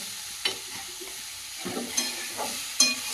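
A spoon works a little oil with turmeric powder in a pan, giving soft scrapes and a few sharper knocks over a faint, steady sizzle. The sound is close and moderately loud, with no voices.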